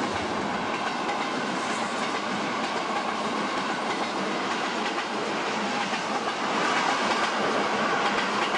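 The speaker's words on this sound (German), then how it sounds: "der Eilzug nun fast immer mit einer Dampflok fährt" A steam locomotive hauls the Nauen–Lübbenau express train, a continuous loud rolling roar with rail clatter that swells slightly toward the end.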